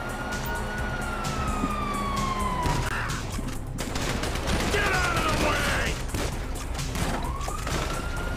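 Wailing police sirens in GTA V rise and fall amid dense, chaotic game noise with bursts of gunfire and rumbling, all loud and continuous.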